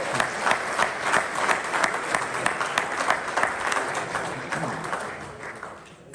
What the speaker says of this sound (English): we should give a big round of applause to Philip Stein